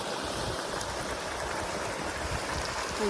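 Steady rushing of water flowing in on a village farm, continuous and fairly close, with no voices.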